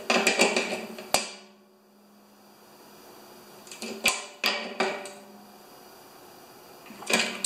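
A ratchet tightens a bearing cap on a John Deere TRS 24 snowblower, giving close, sharp bursts of metallic clicks separated by quiet pauses.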